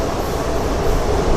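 A special train running at speed, heard from on board as a continuous broadband rumble and rush with no distinct clicks, steady and fairly loud.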